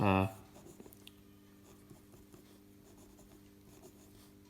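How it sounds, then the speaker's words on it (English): Marker or chalk writing on a classroom board during an algebra lesson, a soft continuous scratching after a brief opening burst, faint and steady with small ticks. "I'm going to write it like this"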